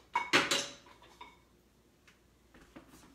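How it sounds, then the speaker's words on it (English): Metal teaspoons grabbed in a home kitchen clink and rattle in a quick cluster at the start, followed by a few faint, scattered taps in a quiet room. "Let me grab my teaspoons over here."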